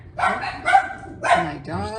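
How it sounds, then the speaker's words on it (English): Dogs barking in several loud, close yelps and woofs, in an uneven rhythm of about four barks with a whimpering tone. "My dogs are here or something."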